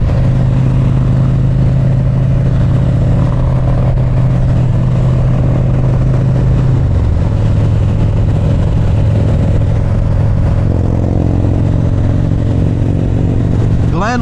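A Harley-Davidson motorcycle engine drones loudly and steadily while riding on the road, a low rumbling tone that shifts pitch midway as the rider changes riding mode, with wind noise and a voice over it.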